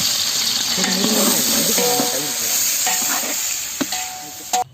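Onions sauté in oil in a large pot for Kadaknath black chicken biryani, a close, steady sizzle with stirring scrapes and a few sharp clanks, while people talk over it.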